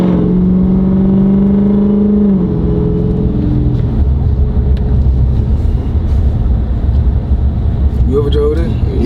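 A Dodge Hellcat Redeye engine rumbles and revs while driving, a deep, loud note that drops in pitch partway through and then settles into a steady roar, with people talking over it.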